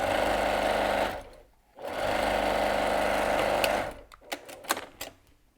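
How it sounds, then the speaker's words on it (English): A sewing machine stitches down the lining of an insulated lunch sack in two steady, close runs separated by a brief pause, followed by a few clicks and clunks as it stops. "I have no problem saving myself a few minutes and stitching it down by machine"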